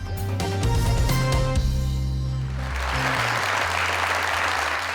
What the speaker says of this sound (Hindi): हमारे आज के विनर के लिए बहुत सारी तालियां